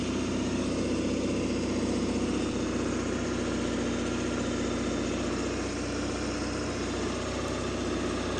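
A Ford 7.3 Powerstroke diesel truck in 4-low second gear hauls 15,900 lbs up a steep driveway, its engine a steady, loud low drone that holds throughout with no speech.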